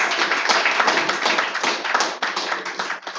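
Steady crowd applause, dense and continuous clapping from many hands, fairly close, with no voices over it.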